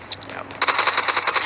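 Rapid automatic gunfire in the battle royale game PUBG Mobile during an esports match, a couple of isolated shots followed by a fast, sustained burst of sharp cracks.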